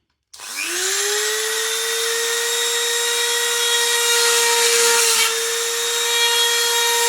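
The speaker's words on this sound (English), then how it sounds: "So I'll drill 3 holes, one at each end, one in the middle" A drill spins up suddenly and whines at a steady high pitch, biting into hard wood for several seconds at close range.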